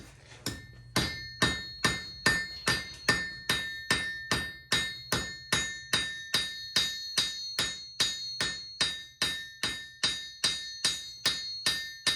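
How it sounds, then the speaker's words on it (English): A round hammer strikes metal over and over at a steady, brisk pace in a blacksmith shop, forging a metal leaf, each blow a sharp ringing clank that decays quickly, close by with no talking. "I'm going to use this hammer."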